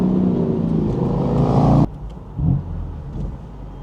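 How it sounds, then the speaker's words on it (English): A 2018 BMW M4 engine drones steadily at low speed, then cuts sharply as it downshifts into first gear. A quick throttle blip and a quieter rumble follow, heard from inside the car with no talking. "I like when you go at about 5 miles per hour, this beautiful downshift into first."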